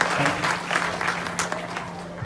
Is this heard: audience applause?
yes